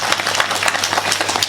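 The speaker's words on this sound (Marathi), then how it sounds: "गुणवाना करता एकदा टाळी वाजवली पाहिजे आपण" A crowd at a Makar Sankranti kirtan claps together in one dense burst of applause, steady and fairly loud across the whole moment, with no voices over it.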